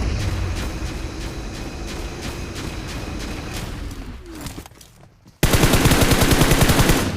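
Machine gun fire in a mobile battle royale shooter: rapid automatic bursts roar close and loud, fade to a brief lull, then a dense, fierce volley resumes abruptly.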